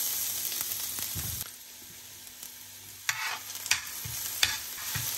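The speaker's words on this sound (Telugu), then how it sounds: "గోల్డెన్ బ్రౌన్ కలర్ వచ్చేదాకా ఫ్రై చేసుకోవాలి." Three spoons of finely chopped garlic sizzle steadily in hot oil in a pan, a continuous hiss broken by several louder scraping stirs of a spoon, with no talking.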